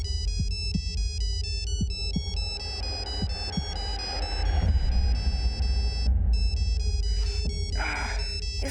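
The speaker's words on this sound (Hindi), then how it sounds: "सुबह सुबह किसका फोन है?" A telephone ringtone plays a repeating electronic melody of bright beeping tones, steady and fairly close, with faint low thumps underneath and no talking.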